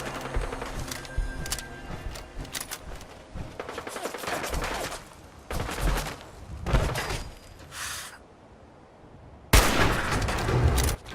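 Bursts of gunfire in the video game Fallout 4 crackle repeatedly, some rapid and clustered, with short quiet gaps between volleys and a loud sustained burst near the end.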